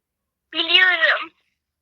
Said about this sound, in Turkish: Burada çok tatlı bir kedi.